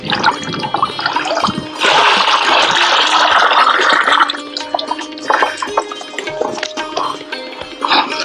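Two kilograms of jaggery soaked in water pour into a farm jivamrit mixture, a steady close liquid splash and gurgle that swells loudly, then breaks into lighter trickles and drips.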